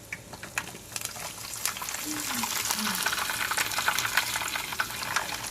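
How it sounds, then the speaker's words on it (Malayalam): Chopped ingredients are stirred and fried in a pan for Kerala-style beef cheenth, producing a continuous close sizzle with intermittent clinks and scrapes of the stirring spoon. "നന്നായിട്ട് ബ്രൗൺ കളർ ആവണ വരെ ഇളക്കണം അല്ലേ?"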